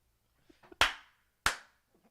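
Two sharp, loud hand claps about two-thirds of a second apart sync a podcast recording, each with a short ringing decay in a quiet room, preceded by faint soft shuffles.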